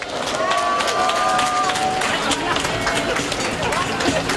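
An outdoor rally crowd in Daegu claps steadily to welcome a lawyer to the stage, dense, continuous applause throughout with faint crowd noise and some voices mixed in.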